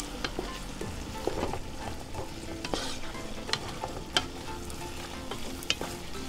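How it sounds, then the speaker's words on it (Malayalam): Egg stirred and frying in a pan for Chinese fried rice, a steady close sizzle broken by repeated scraping strokes of a spatula, with no talking. "ഇനി നമുക്കിതിനെ മൊത്തത്തിലങ്ങ് മിക്സ് ചെയ്യാം."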